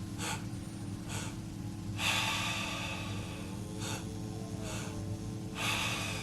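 Breathwork breathing in a steady rhythm during a guided meditation session: a series of sharp, forceful inhales and exhales evenly spaced about a second or two apart, close to the microphone over a constant low hum.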